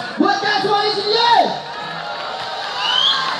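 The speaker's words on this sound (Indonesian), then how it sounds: "Ya jelas sekarang tepuk tangan yang paling keras buat kalian semua di sini." Crowd at a live scooter culture event in Nganjuk, cheering and whooping loudly in a steady roar. Shouted voices rise and fall across the whole stretch.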